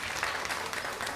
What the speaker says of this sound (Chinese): 我们掌声给他鼓励一下哈。